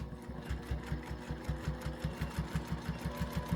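A home sewing machine stitches through a quilt in a steady, rapid mechanical rhythm, close and fairly quiet, running alone without voices.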